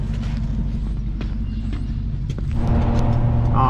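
A packed pickup truck drives toward a landfill, its engine giving a steady low rumble under constant road noise, the drone building slightly louder and rougher in the last second.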